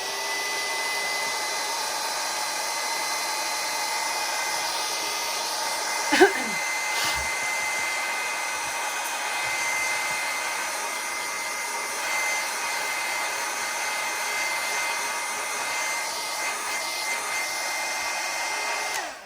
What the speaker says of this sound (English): We'll give it a dry with my hairdryer